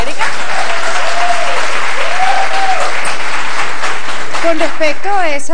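An audience applauds Erika at a Miss Venezuela event, a steady burst of clapping filling the room while a voice talks over it.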